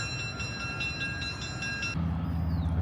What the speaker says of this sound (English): you can see the train there pulling back into the station